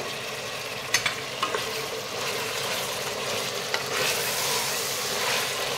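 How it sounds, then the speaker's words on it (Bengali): Carrots stir-frying in a pan for egg chicken fried rice give a steady, close hiss of sizzling oil, broken by a few sharp spatula clinks early on and a slightly louder sizzle toward the end. "গাজরটা দিয়েও ভালো করে ভাজা ভাজা করে নেব।"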